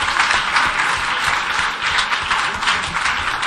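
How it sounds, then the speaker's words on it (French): An audience at a Senegalese teachers' network gathering gives a dense, steady round of applause for Madame Mati, loud and continuous with no pauses. "Je vais vous demander d'applaudir à nouveau pour Madame Mati pour son courage."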